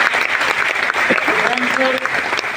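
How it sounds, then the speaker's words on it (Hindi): Loud, vigorous applause from an audience honouring parents at an education recognition event, a dense burst of clapping with a few voices calling out over it. "जो नहीं भी है उनके लिए जोरदार ताली एक बार होना चाहिए"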